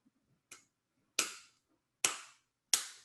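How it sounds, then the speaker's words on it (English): Four sharp wet slaps of hands on raw steak in a row, spaced about a second apart, each a crisp smack with a short decay in a quiet room. "Let's get a steak clap."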